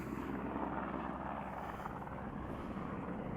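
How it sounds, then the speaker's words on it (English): A helicopter flies near the border wall at Naco, Arizona, a faint but steady rumbling drone of rotor and engine, continuous and distant, with no speech. "The helicopter coming to check you out is"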